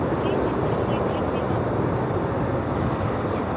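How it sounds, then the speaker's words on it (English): An airliner landing at Melbourne Airport with its reverse thrusters engaged, a loud, continuous, broad roar that holds steady throughout and fills the whole recording. "how good was that? The reverse thrusters."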